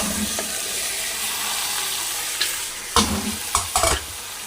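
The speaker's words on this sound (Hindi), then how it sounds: "इसको जो मैं अब अच्छी तरह से भून लूँगी।" Boiled chickpeas sauté in a hot pan with spices for chana pulao, a steady sizzle running throughout while a spoon scrapes and stirs, with a few louder clanks near the end.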